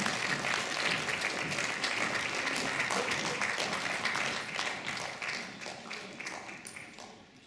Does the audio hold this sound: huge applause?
yes